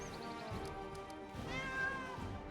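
A cat meows in the video game Pathfinder: Kingmaker, a short pitched mew rising over a layered in-game music and ambient bed.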